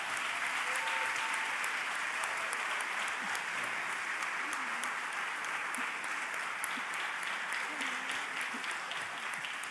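Sustained audience applause after a lecture on biblical languages at a Brazilian college academic week, a dense, even wash of many hands clapping that holds steady for the full stretch with no voices over it.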